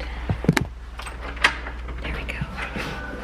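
A door is unlocked and opened with a couple of sharp metallic clicks and clacks, followed by softer handle and hinge movement against a low background hum.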